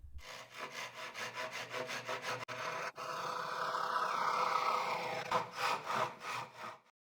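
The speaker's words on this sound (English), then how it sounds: "I'll rest the Japanese handsaw on top and then make the cut." A Japanese handsaw cuts through wood, rasping back and forth in steady strokes close by, with brief pauses before the rhythmic sawing resumes and no one talking.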